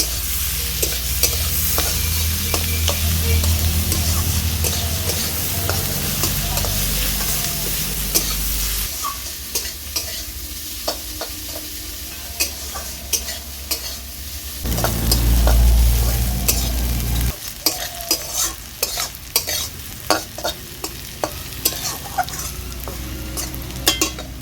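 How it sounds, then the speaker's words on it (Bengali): Onion with salt and turmeric fries in a pan, sizzling continuously while a utensil stirs and scrapes it in repeated strokes, close and fairly loud. "পেঁয়াজটাকে এবার নরম করে আমি ভেজে নেব।"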